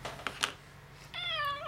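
A small cat gives one clear, rising meow near the end, close and fairly loud, in a quiet indoor craft setting. A few light taps and rustles come before it.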